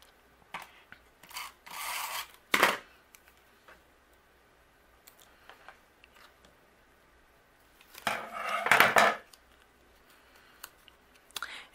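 Paper strip edges being trimmed for a stamped greeting card, with a few short crisp cutting bursts separated by quiet pauses, fairly close and alone.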